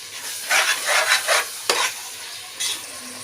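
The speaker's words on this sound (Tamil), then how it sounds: "மல்லித்தலை ஒரு கைப்பிடி, புதினா ஒரு கைப்பிடி, நல்லா வதக்கி எடுத்துடலாம்" Coriander and mint leaves sautéing in hot oil in a pan for chicken biryani, a steady sizzle broken by several bursts of scraping stirring strokes, close and moderately loud with no talking.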